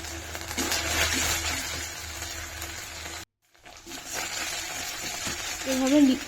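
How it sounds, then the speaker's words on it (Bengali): Ginger and garlic sizzling and being stirred in a frying pan, a steady close crackle with a short silent gap partway through and a voice talking over it. "আদা দেওয়ার পর যতক্ষণ না কাঁচা গন্ধ যাচ্ছে ততক্ষণ আমরা এটাকে লাড়তে থাকবো"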